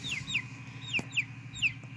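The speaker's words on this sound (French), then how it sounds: "Et là, il y a la poule." A farm hen clucks in short, repeated bursts, about four close, clear calls over a faint background.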